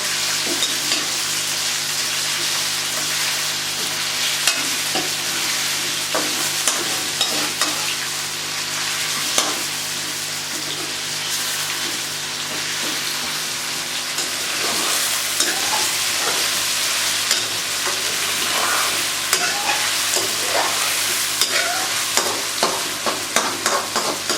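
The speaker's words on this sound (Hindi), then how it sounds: "इसमें भून रहा है प्याज में।" Meat fries with onions in a pot, a steady loud sizzle running throughout with repeated scraping stir strokes close by, no voices.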